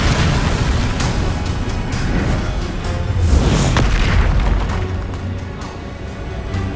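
In the Hogwarts Legacy video game, explosive Confringo and Bombarda spells go off in a heavy, continuous barrage of loud booms and blasts. The deep rumbling fills the whole stretch, with a few sharper bursts standing out.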